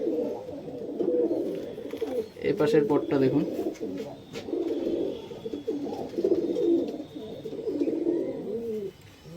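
A male spotted pigeon at a pigeon sale coos in repeated low, rolling burbles, close and fairly loud, with someone speaking over it and brief rustles and flutters mixed in.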